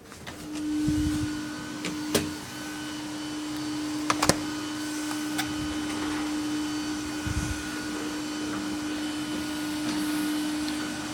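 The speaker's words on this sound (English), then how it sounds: "I got 2 server PSUs, which are what's really, really loud right now." A pair of KK Moon 2600 watt server power supplies in a crypto mining setup run loudly and steadily, a continuous fan roar with a constant whine, close by and alone, broken by a few brief clicks.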